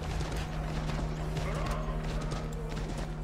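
A horse trots in the game Assassin's Creed III Remastered, a steady clip-clop of hooves with a whinny over a constant background hum, moderately loud.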